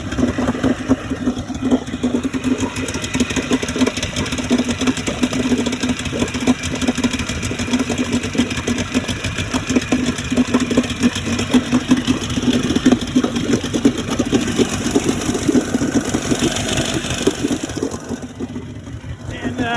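A restored Tohatsu M40C outboard motor with electric starter running at idle, a steady, close mid-pitched engine drone with a rhythmic pulse that holds for the whole stretch and fades slightly near the end.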